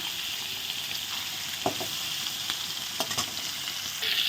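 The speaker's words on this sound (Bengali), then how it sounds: "না চারটে মাছ দিয়ে দিলাম এখন ভেজে নিই" Rohu fish pieces fry steadily in hot oil, a continuous close sizzle with a few brief stirring clinks and spatters, no voices over it.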